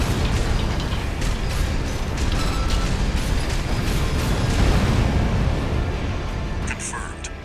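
Heavy explosions and grinding mechanical roar as the Juggernaut war machine is destroyed in the mech combat game Armored Core VI, a loud dense continuous blast-and-rumble lasting throughout, with a voice talking over part of it.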